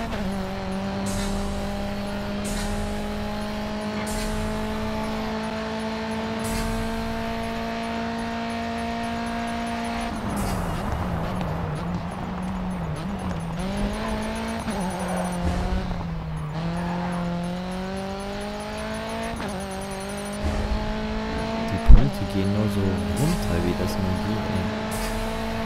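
Race car in GRID 2 with a droning engine whose pitch holds, dips and climbs again as it accelerates, continuous and close, with a voice talking at times over the engine.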